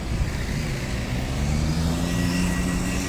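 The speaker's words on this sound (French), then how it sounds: "beaucoup de circulation ici sur le rond-point de Provence" Heavy road traffic streams around the Provence roundabout in Antibes, a dense continuous rumble of cars and trucks with engine drone and passing tyre noise, steady and fairly loud with no voices.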